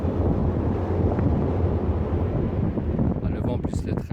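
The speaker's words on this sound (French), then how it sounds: "Aujourd'hui il y a énormément de vent." Strong wind buffets the microphone in a constant, heavy roar with no letup, outdoors during magnet fishing.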